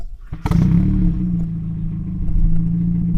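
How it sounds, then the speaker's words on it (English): An Audi 80 with a Ragazzon exhaust starts with a sharp click, then settles into a loud, steady, deep idle rumble close by. "This is its idle sound."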